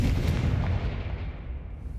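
Confringo fire-blast spell cast in the Hogwarts Legacy video game, a deep booming burst with a sharp crack up front and a rumbling tail that fades over about two seconds, loud and close with no voices.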